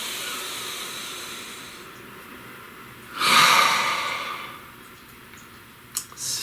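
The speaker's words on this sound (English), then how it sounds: "Please take a nice deep breath." A single deep breath drawn in and let out during a calm guided energy-clearing session, a soft airy hiss swelling briefly and fading in a quiet room.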